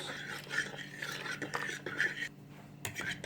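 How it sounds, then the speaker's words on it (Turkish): A spoon stirs a yogurt, salt and oil mixture for dough in a bowl, with quiet rhythmic scraping and soft wet swishes, faint and close with no talk. "Bütün malzemeyi bu şekilde karıştırıyoruz"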